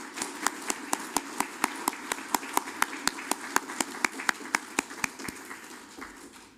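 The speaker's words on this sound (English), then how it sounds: "Let us give them a round of applause." Forum audience at a Maine State Senate District 13 primary candidates event clapping for the candidates: a steady run of sharp, evenly spaced hand claps, fairly close and clear, fading slightly toward the end.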